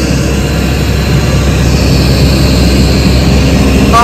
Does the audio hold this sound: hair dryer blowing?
no